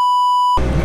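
A single loud, steady electronic censor beep holds alone for about half a second, then cuts off abruptly into a burst of broadband rumbling noise.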